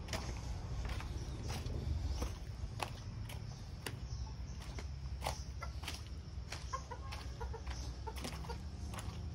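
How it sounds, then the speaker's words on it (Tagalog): Roosters and chickens cluck and call repeatedly at a quiet rural spot away from the road, sharp bird calls popping out at close to middle distance over a steady low background. "Oh, may pandak pa na tandang."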